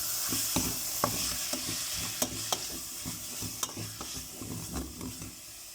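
Ground beef sautéing in a pan for a creamy pasta, a soft constant sizzle punctuated by sharp, regular spatula scrapes and taps, heard close with no voices.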